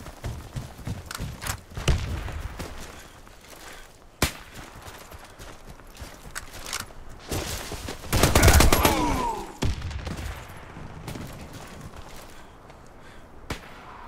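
Thrown grenade bursting during a ranked PvP match in Warface, with a loud explosive blast near the middle amid scattered sharp gunshots and clattering battlefield noise throughout.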